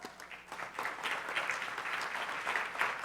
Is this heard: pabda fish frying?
no